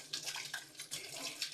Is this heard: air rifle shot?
no